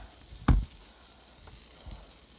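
Food burns and sizzles in a frying pan with a soft, steady hiss underneath, interrupted once by a short, sharp clatter near the start.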